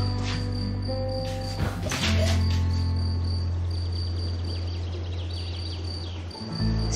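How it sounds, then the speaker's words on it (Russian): Crickets chirp in a steady, high-pitched pulsing trill that runs throughout, fairly loud against a constant low hum, with no one speaking. "Сверчков."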